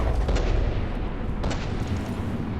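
Heavy naval guns boom in a warship game battle between dreadnoughts HMS Erin and HMS PiuPiu, a dense rumbling salvo with a couple of sharp blasts over a continuous roar.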